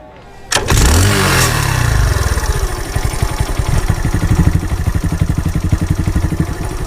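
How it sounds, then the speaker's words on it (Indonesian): A Honda Super Cup motorcycle with a loud open exhaust starts abruptly and settles into a close, rapid, throbbing rev that pulses steadily throughout. "menggeber knalpot"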